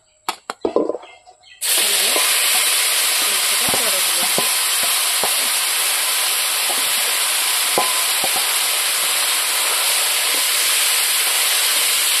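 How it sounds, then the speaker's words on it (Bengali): After a few clatters, a loud, continuous sizzle of marinated goat mutton leg pieces frying in hot oil takes over, steady and close, with occasional faint scrapes beneath. "মাংসটা ম্যারিনেট হয়ে গেছে, এখন আমি চড়ে দেব"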